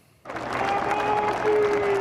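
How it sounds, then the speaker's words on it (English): Fans crowd outside a cathedral in downtown Montreal, cheering and chanting loudly as the casket of hockey great Guy Lafleur arrives; a dense roar of voices swells in suddenly after a quiet start and holds steady, with a whistle-like tone cutting through. "as his casket arrived at the cathedral in downtown Montreal, a familiar chant spontaneously broke out"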